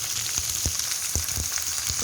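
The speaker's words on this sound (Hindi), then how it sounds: "देखिए हमारी भिंडियाँ आहिस्ता आहिस्ता बहुत ही अच्छी तरह जो है वो फ्राई हो रही हैं" Okra sizzles steadily as it fries slowly over low heat in a pan, a dense continuous crackle with scattered louder pops, close and alone without voices.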